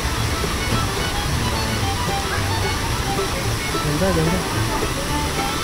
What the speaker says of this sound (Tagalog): Ito na yung tinatawag na Paeng Falls.